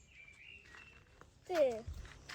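A few thin bird chirps, faint and some distance off, with a short burst of a voice in the middle.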